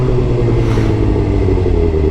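Suzuki GSX-R sport motorcycle engine droning steadily while riding, a smooth continuous mid-pitched hum with wind rumble and no voices.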